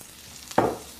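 Baby artichokes sauté with garlic in a hot pan, a short burst of sizzle flaring up abruptly and fading within half a second over near-quiet, with no voices.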